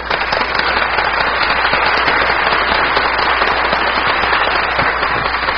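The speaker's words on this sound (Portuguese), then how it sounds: "nós vamos dar uma salva de palmas para você" A room full of people gives a sustained round of applause to welcome a young medical student being introduced, dense steady clapping holding at full volume throughout with no talk over it.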